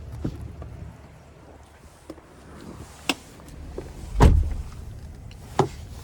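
Door opening and a thud of someone climbing into the driver's seat of a 2025 Cadillac Escalade ESV Premium Luxury with a 6.2-liter V8, with scattered clicks and shuffling and one solid knock near the middle, in freezing weather.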